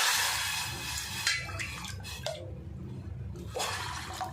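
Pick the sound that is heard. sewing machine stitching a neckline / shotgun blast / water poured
water poured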